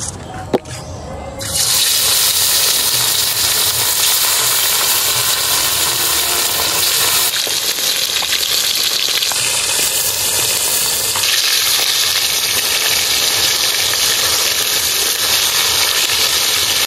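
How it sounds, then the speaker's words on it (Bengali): Tilapia pieces salted and rubbed with turmeric hit hot oil in a pan, setting off a sudden loud, dense hissing sizzle that roars on steadily close by, with a few shifts in intensity. "এবার মাছগুলো ভেজে নেব।"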